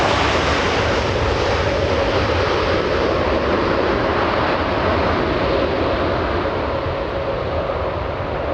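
Roaring jet engine noise of an airliner touching down at Los Angeles International Airport, a loud continuous broadband rush that holds steady throughout, with no voices.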